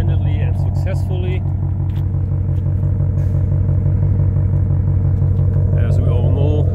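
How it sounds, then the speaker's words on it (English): A 2021 Ford Mustang Shelby GT500 idles steadily with a deep, rumbling engine and throaty exhaust burble, loud and close throughout, with faint voices murmuring in the background. "listen to the sound of an American muscle car"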